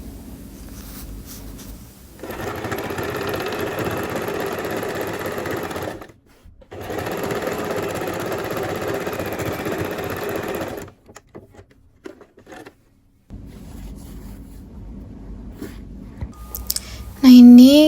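An industrial sewing machine stitches a trouser lining cloth to the pocket facing along the overlocked edge, running in two steady, loud bursts of rapid stitching separated by a brief pause, followed by quieter handling and a short squeak at the end.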